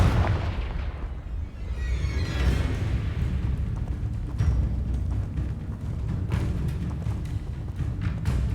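A Confringo blasting spell in Hogwarts Legacy rolls out as a sustained, booming rumble with thudding blasts layered through it, loud and continuous for several seconds, with no speech on top.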